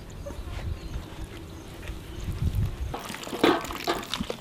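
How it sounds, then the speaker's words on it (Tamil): Water is poured into fish fry masala for Kerala-style meen pollichathu, giving soft, low sloshing followed by a brief, brighter splash near the end, with no voices. "மசாலாவுக்கு கொஞ்சமாக தண்ணி ஊற்றிக்கலாம்."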